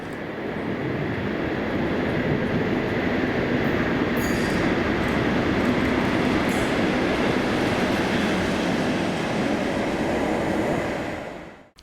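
DRS class 37 diesel locomotive 37401 passes Paisley Gilmour Street on a winter snow-duty run, a loud, sustained roar of engine and rolling wheels close by that builds and holds before fading at the end.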